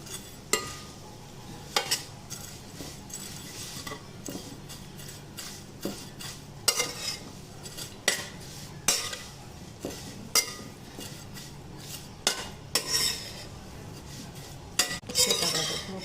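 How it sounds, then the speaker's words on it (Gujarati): Vermicelli is roasted in a pan with fried dry fruits, a spoon stirring and scraping against the metal in irregular clinks and scrapes over a soft, steady sizzle, close and fairly quiet, with no talking. "હવે એમાં આ સેવ નાખી દઈશું. બરાબર. અને ગોળ સેવને શેકી લેવાની."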